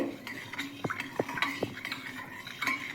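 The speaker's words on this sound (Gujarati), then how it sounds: "ખાંડને આપણે અહીંયા આવી રીતે જ ઓગાળવાની છે." A spoon stirs sugar and black salt into water in a vessel for lemon-fennel-mint sherbet, giving several close, crisp clinks and scrapes spread irregularly over a few seconds, with no talking.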